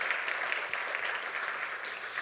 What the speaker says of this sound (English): So please, a warm round of applause for Marc.